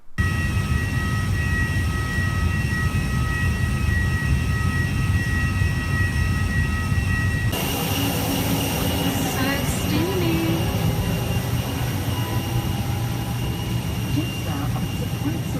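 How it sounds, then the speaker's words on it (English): Airplane air conditioning blasts at full power in the cabin as a steady, loud broadband roar under a constant engine hum. The rush grows harsher about halfway through, and faint voices sound underneath. "This is what it looks like when you put the air conditioning on at full blast on an airplane."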